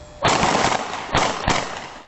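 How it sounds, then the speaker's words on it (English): Bursts of rapid gunfire outside a bar, several loud volleys with short gaps between them, harsh and sustained rather than single cracks. "A barrage of bullets outside a Coleraine Township bar was followed by more gunfire."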